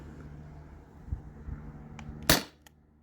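A Sabre 68 home defense launcher fires a 3.6 gram nylon ball with a single sharp, loud outdoor pop, followed by a couple of faint clicks amid quiet background noise.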